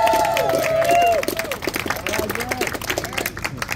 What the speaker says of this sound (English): please have a big round of applause for the son of James Lee